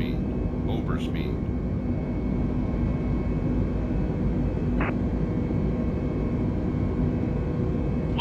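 Airbus A320 in Microsoft Flight Simulator 2020, a steady loud engine and cabin roar throughout, with faint tonal alert beeps near the start and midway.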